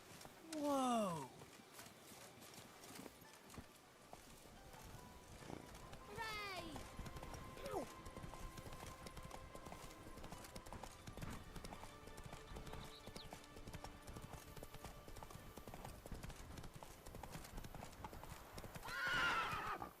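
Horse hooves clip-clop steadily in the game Witcher 3 Blood and Wine, with whinnies at the start, middle and end, all under a player's quiet talk and game ambience.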